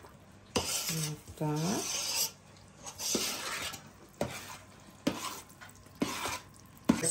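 Enriched Easter bread dough starter being stirred gently in a bowl, a scraping, mixing sound in several separate strokes, with someone speaking briefly in between.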